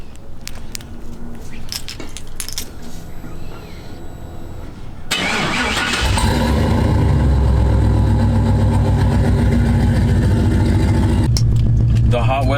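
A single-cab pickup truck starts up about five seconds in and settles into a loud, steady, rumbling idle close by, following quieter handling noises.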